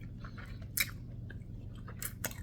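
Someone chews a Velvet Taco taco filled with crunchy carrots during a mukbang, making close, wet chewing sounds broken by a few louder, crisp bites.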